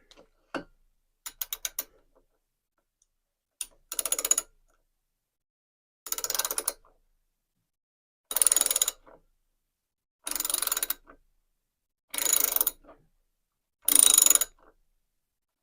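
A ratchet turning a 1/4-inch-drive 11mm socket on a bolt of a cheap lawnmower gives short bursts of rapid clicking, about seven strokes separated by silent pauses, close and loud, with no talk.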